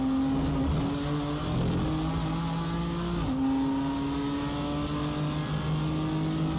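A GT4 race car engine in the iRacing sim at the Red Bull Ring drones steadily under load, with its pitch climbing through the gears and dipping briefly at a shift, loud and continuous with no talk.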